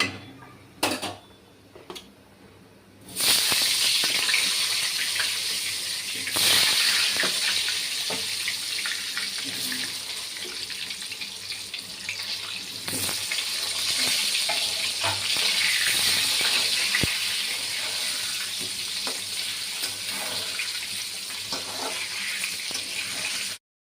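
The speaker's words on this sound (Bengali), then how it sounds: "সর্ষের তেলটা দিয়ে দেবো আলু ভাজার জন্য।" Potatoes drop into hot mustard oil seasoned with salt and turmeric: a few quiet clatters, then a sudden loud hiss that settles into a long, steady, crackling sizzle.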